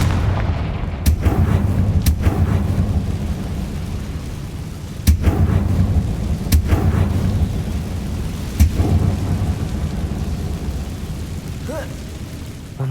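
Confringo explosive spells are cast in Hogwarts Legacy, several sharp booming blasts spaced a few seconds apart over a low rumbling background.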